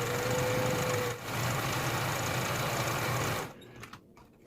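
A sewing machine runs continuously down a garment side seam, a close, steady whirring hum that briefly dips and then stops near the end, followed by faint handling sounds.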